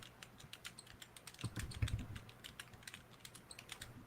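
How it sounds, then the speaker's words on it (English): Typing on a computer keyboard: rapid, uneven clicks and taps at close range, fairly quiet, with a few heavier keystrokes in the middle. "I didn't fully hear that because I was typing at the time"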